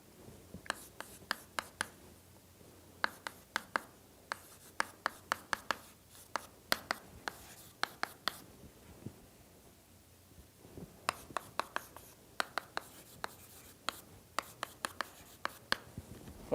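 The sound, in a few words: writing on a board during a lecture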